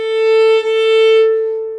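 A cello sounds a natural harmonic A at 440 Hz, played with a finger lightly touching the string, as one sustained pure note that swells slightly and then fades gently toward the end, close and alone.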